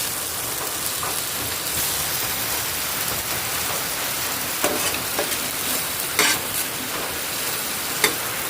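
Tomatoes sautéing in a pan during a typhoon, a continuous hissing fry with a few sharp clinks and scrapes of a utensil standing out, no voices.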